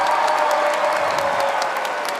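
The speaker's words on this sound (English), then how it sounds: "Give them all a nice big round of applause." A large arena crowd at a robotics championship ceremony applauds loudly and continuously, a dense wash of clapping with faint cheering mixed in, sustained at even volume throughout.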